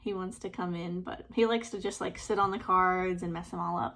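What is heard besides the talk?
No everyday noises stand out.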